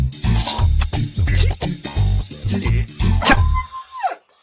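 A dog barks in a rapid series of about eight sharp, loud barks close by, followed by a rising and falling whine or yelp at the end.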